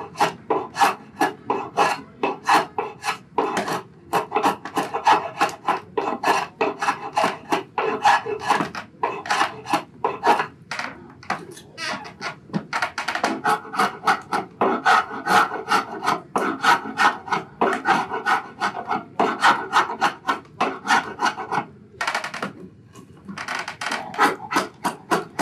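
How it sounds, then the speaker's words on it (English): A draw knife shaves wood in a steady run of rough, rasping strokes, each one a short scraping pull repeated quickly and loudly for the whole stretch, with a couple of brief pauses near the end and no talking. "you can use things like a draw knife to do some shaving"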